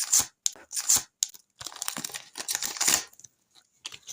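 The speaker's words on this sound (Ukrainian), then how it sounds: "Відкриваємо такий пакетик." Crinkly plastic rustles and tears in several quick bursts as a small Despicable Me surprise packet is ripped open close by, with short quiet gaps between.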